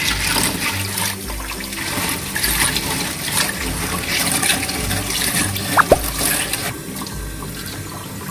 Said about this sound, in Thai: ตามกันไปเปิดน้ำล้างแล้ว